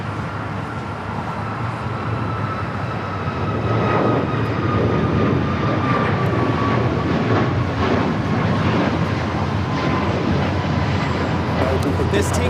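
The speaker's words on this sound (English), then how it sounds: "This takeoff is United Airlines 1863 taking off to Phoenix on the MAX 8." A United Airlines Boeing 737 MAX 8 takes off at LAX, its jet engines a broad, steady roar that swells and holds at a distance, with voices talking over it.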